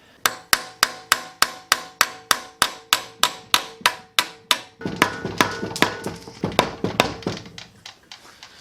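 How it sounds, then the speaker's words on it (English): Tapping the cover off a Predator 79cc small engine, about fifteen evenly spaced sharp knocks near the mic, followed by a faster, messier cluster of softer thuds. "We want to make sure we can wiggle this cover off without damaging the gasket."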